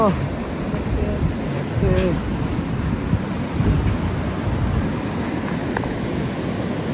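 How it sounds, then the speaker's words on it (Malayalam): Strong wind blowing at a high hanging bridge on the Everest Base Camp trek between Phakding and Namche Bazar, a loud rushing roar that swells and eases steadily, with faint voices under it. "നല്ല കാറ്റുണ്ട്"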